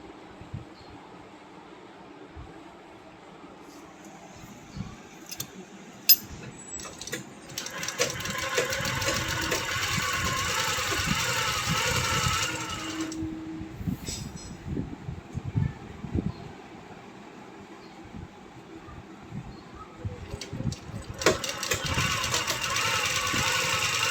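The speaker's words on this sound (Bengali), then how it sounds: "আমি সেলাইটা করে দেখাই।" A sewing machine stitches fabric in bursts of rapid mechanical whirring and clatter, with quieter pauses between runs. Someone talks at times over it.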